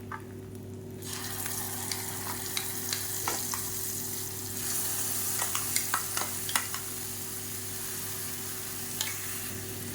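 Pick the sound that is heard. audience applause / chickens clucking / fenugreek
fenugreek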